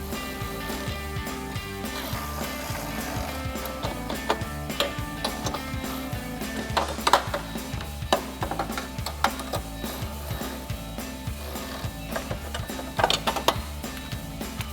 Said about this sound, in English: grab a ratchet, 18mm socket, 18mm wrench, tighten it down